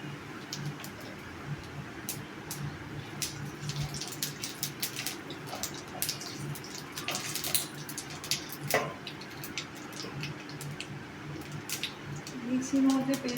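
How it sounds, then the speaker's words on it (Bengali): Whole garam masala, bay leaf and white cumin dropped into hot oil for tempering, giving a steady soft sizzle with scattered crackles and pops, close by, with a few brief clinks near the end. "তেল গরম হয়ে গেছে, এখানে গোটা গরম মশলা, তেজপাতা, সাদা জিরে তেজপাতা ফোড়ন দেবো।"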